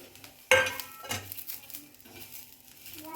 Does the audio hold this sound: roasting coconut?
yes